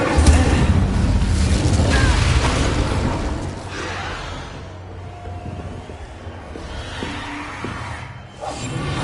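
A fire spell cast in Hogwarts Legacy, an opening loud whooshing boom that rolls and fades into a lower rumbling roar, with further swelling bursts and game effects later.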